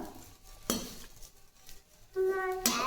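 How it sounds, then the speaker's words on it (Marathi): Dry coconut with turmeric roasting in a pan, heard as sharp metallic scrapes and clinks of a spoon against the pan at intervals, with faint sizzling between strokes. "खोबरं भाजताना मी याच्यामध्ये हळद टाकते"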